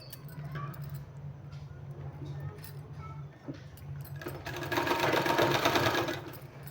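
A sewing machine stitches a folded 2-inch fabric strip for a sleeve design, its rapid whirring running loud and steady through the middle of the clip, with quieter handling sounds before it.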